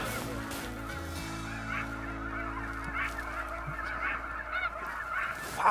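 Rocky Mountain honker geese calling during a waterfowl hunt, with a flock's overlapping honks filling the air, nearby and continuous, growing louder toward the end.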